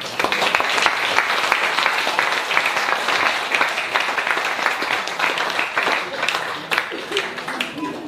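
A church congregation applauds at an evening baptism service, sustained crowd clapping that fills the room while voices and a speaker carry on over it.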